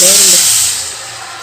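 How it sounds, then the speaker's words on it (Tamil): About two glasses of water splash into a preheated pan for chutney with a loud hiss and sizzle that quickly fades to a softer steady steam. "2 கிளாஸ் போல் தண்ணி சேர்த்துக்கலாங்க."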